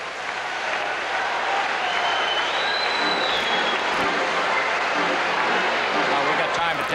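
Arena crowd noise at a 1979 Montreal vs. Toronto playoff hockey game, a dense continuous roar of cheering and clapping that stays loud and even throughout, with a commentator's voice faintly under it.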